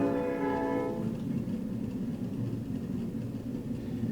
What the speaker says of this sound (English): watch how long it takes the train to come to a stop